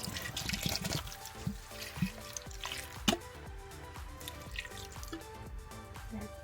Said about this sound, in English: Then we're going to put 2 cups of broth in.